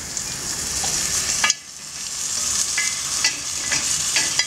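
Eggs frying on a hot pot lid: a steady close sizzle that drops off sharply for a moment, then returns with scattered pops and crackles.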